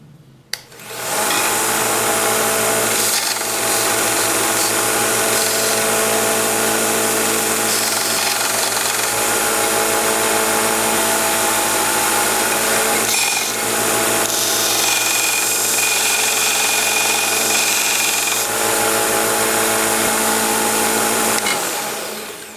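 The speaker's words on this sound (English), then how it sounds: "we're going to sharpen into the travel of the belt" A lathe chisel being sharpened on a Vevor 1x30 belt sander, the motor whining loudly and steadily with a harsh grinding rasp from the blade on the belt, sustained for about twenty seconds and then spinning down.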